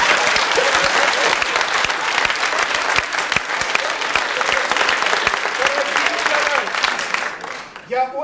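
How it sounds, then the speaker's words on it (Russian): An audience at a Soviet comedy stage performance applauds loudly and continuously, dense clapping from a full hall that fades near the end as a voice begins. "Я очень рад, что вы встречаете меня аплодисментами."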